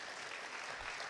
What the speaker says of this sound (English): give a warm round of applause to all our panelists